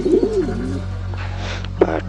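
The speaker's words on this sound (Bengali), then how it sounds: "একটা পায়রা, আহত পায়রা, ছটপট ছটপট করতে করতে ঢুকে পড়ে সেই বিজ্ঞানীটির গবেষণাগারে।" A pigeon coos loudly and close in two short bursts, one at the start and a brief one near the end, with a steady low hum and faint background noise between.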